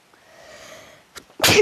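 A single sharp sneeze bursts out loud and close at the end, after a quiet stretch of low background hum and a faint breathy sound, during a casual ARK game session.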